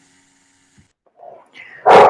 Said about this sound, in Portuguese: é que o meu cachorro está latindo